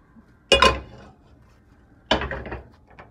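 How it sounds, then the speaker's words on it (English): A metal cooking pot set down on the stove while making shrimp fried rice: two distinct clattering knocks about one and a half seconds apart, close and fairly loud, with brief metallic ringing. "move this out the way, get our pot ready"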